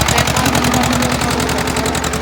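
An Escort 345 tractor engine working hard pulling a 9-tine cultivator through a field, a loud, close, steady rapid thrumming pulse with no voices.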